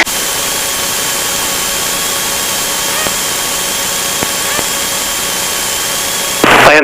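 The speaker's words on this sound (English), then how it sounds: "This is where we're throttling up slow but sure here." Steady loud drone of the engine on the aircraft N26XY during formation flying, holding constant tone as throttle is slowly advanced, with a brief burst of extra noise right at the end.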